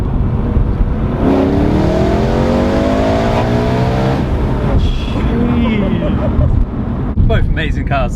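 A Mercedes C63 AMG or BMW M3 engine revs loudly up and down from inside the car, rising and falling through gears over a steady road roar.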